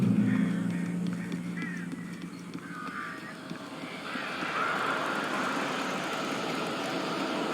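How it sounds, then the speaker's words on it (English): Birds honking in the video game Alan Wake, goose-like honks and squawks scattered over a low droning rumble, moderately loud and irregular, with a faint voice early on. "These birds are weird."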